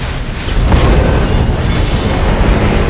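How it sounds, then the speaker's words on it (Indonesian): A police car explodes in a loud, sustained roaring blast with heavy low rumble and crackling debris, filling the whole stretch without any talk. "mobil polisi yang ada dia di dalamnya meledak"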